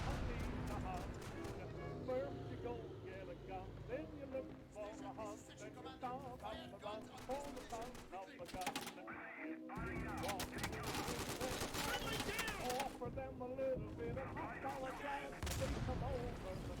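Gunfire and explosions from the WWII shooter game Day of Infamy, with bursts of rapid shots and loud blasts running continuously under game voices and clamour, briefly cutting out near the middle before resuming.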